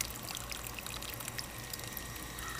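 Water spills out of an aquaponics grow bed, flowing over rocks and dropping out the end in a steady, close, continuous splashing pour with no voices.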